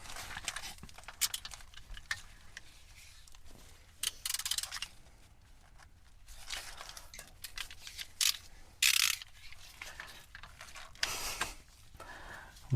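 Ratcheting clicks and metallic mechanical rattles come from bolts being tightened on the differential cover of an electric EZGO RXV golf cart, in irregular bursts of varying loudness.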